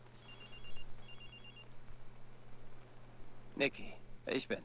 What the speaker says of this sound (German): Na komm, Nikki, geh ans Telefon.